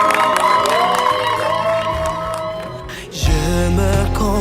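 Wedding guests cheer, whoop and shout loudly together, with some clapping, joined partway through by deep pounding music.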